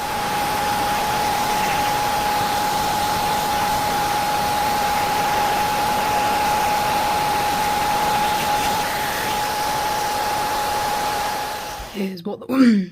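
Hair dryer blowing steadily on freshly painted scale model wheels, a loud continuous whoosh with a thin whine running for about twelve seconds before cutting off, followed by brief handling noises.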